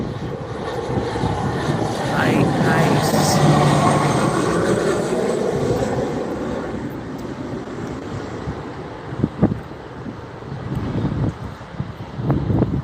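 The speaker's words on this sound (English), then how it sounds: "It's a prop plane." A blue and white propeller plane landing at Teterboro airport, its engine roar swelling loud and broad, then fading away, with a few brief knocks near the end and a voice speaking once.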